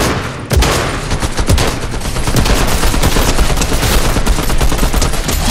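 Gunfire in the video game Fortnite arrives as loud, rapid bursts of automatic shots. The dense volley rattles on without pause for several seconds, close and forceful.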